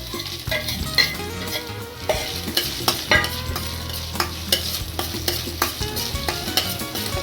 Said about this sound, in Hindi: थोड़ा इनको भून लेंगे।